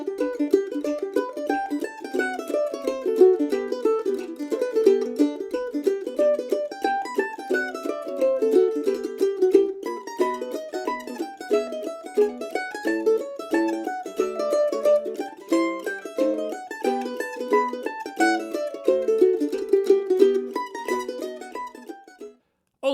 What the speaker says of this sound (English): we're going to take a very quick look at a wonderful tune called the Golden Eagle Hornpipe